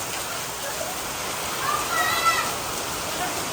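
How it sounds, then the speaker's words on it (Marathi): Steady rain falls in a village setting, a soft even hiss of drops throughout at moderate level with no clear voices. "पाऊस दाखवतो"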